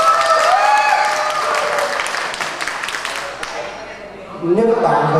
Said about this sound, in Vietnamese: các bạn tặng cho đội nữ mình một tràng pháo tay nha